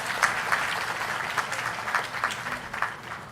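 Applause from a crowd, steady rapid clapping with no voices over it.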